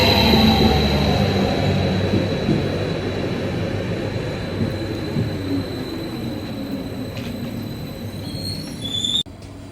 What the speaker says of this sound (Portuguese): Nosso trem tá aqui acabando de chegar.